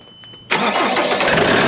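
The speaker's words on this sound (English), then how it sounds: "Hit her once. Hopefully she idles or something." A car engine fires up abruptly after a brief quiet moment and keeps running loud and steady close by, a rough mid-pitched roar that holds through the end with no talking.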